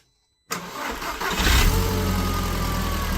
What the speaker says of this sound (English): Go on then, fire her up.